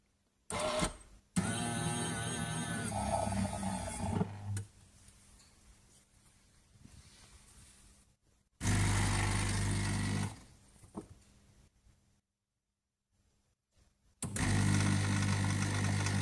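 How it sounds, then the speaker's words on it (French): A Canofea coffee machine switches on and grinds coffee in loud, whirring mechanical bursts, separated by quieter humming gaps and brief silences. "Elle s'allume et elle broye le café."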